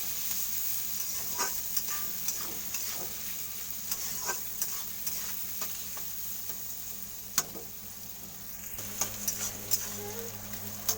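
Onions sizzling in mustard oil in a pan, a continuous close frying hiss with intermittent spatula scrapes and clicks as they are stirred, moderately quiet with no talk.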